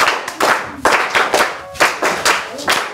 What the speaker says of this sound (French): On applaudit les amis.